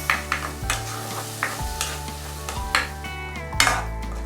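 Tomatoes cook in a pan over a low to medium flame, a steady soft sizzle under repeated scraping stirs of a utensil against the pan, the strokes coming every second or so close by.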